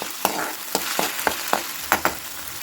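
Ginger garlic paste frying in oil with a constant close sizzle, punctuated by about eight quick regular spatula scrapes against the pan, no talking.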